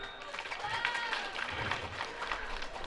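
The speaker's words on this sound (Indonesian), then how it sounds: "Tepuk tangan." A large gathering at an annual Islamic boarding school assembly claps together, a soft, distant, steady patter of many hands spread evenly through the clip with faint voices in the background.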